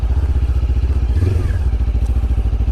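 Lifan KPT 400 motorcycle engine idling close up with a fast, even pulsing thump, a brief rev and clatter rising midway before settling back to the steady beat.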